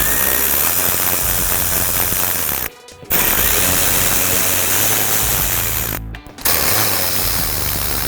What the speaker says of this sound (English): Now we can use a size 7 socket to remove each of those bolts.